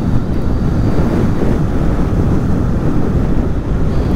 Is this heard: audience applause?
no